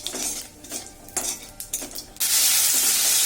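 Dried chili, bay leaf and cumin frying in hot oil, with a few clinks and stirring scrapes of a utensil against the pan, followed by a loud, steady sizzle that surges up at the end.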